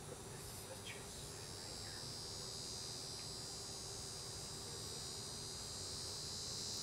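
A dense, steady drone from bees packed into a beehive runs without a break at low level, with a high constant hiss above it.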